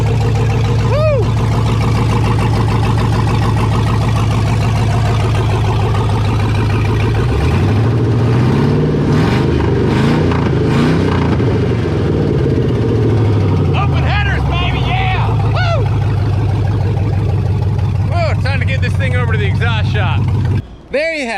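An LS-swapped ramp truck engine starts, revs up and settles into a steady idle, loud and close throughout, with a deep rumbling drone and people talking over it.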